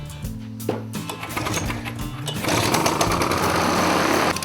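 A Victa Imperial cylinder lawn mower's small petrol engine cranks with a few uneven pulls, then catches and runs with a loud, steady buzzing roar close by.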